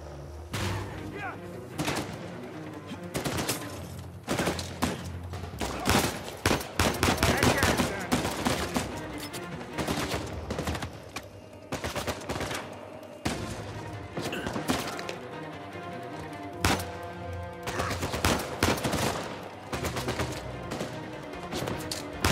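Gunfire in the Uncharted 4 Madagascan Wildlands combat, with a sniper rifle among bursts of automatic weapons, loud repeated cracks and thuds through a busy firefight, with a voice talking over it.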